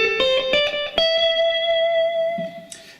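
Electric guitar picking a quick five-note pentatonic run high up the neck, the last note ringing out and sustaining with reverb before fading, followed by a faint string noise at the end.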